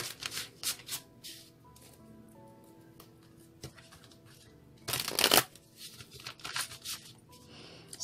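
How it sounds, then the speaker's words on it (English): Tarot cards are shuffled nearby in several quick riffling bursts, one louder flurry in the middle, with soft handling noises between them and no talking. "so let's see another shuffle they request"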